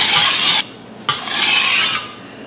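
Chinese vegetable cleaver drawn across a 220 grit whetstone in two long, loud, even rasping strokes separated by a short pause, close and alone.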